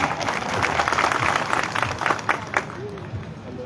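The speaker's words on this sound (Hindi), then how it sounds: "आप लोग का जो प्यार और सम्मान तालियों से मिल रहा है" Crowd applause at a Suheldev Jayanti gathering, dense clapping sustained across the clip with some voices mixed in, tapering slightly toward the end.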